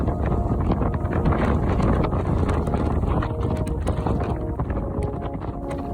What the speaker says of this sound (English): In the late afternoon, the wind really started picking up